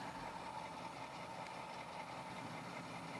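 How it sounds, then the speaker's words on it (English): Model train locomotive engine sound from a digital command control layout, a faint, steady low diesel idle hum that runs on without break for a few seconds, with no horn or talk. "Couple horn blasts, some engine sound."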